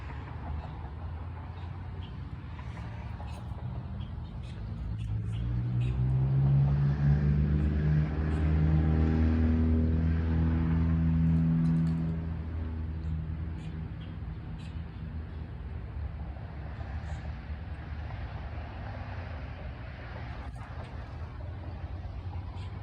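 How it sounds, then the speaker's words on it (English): Road traffic rumbles along at a distance, a low steady drone that swells as a vehicle passes nearby around the middle and then fades back to a faint background hum. "Just traffic. Just rumbling along."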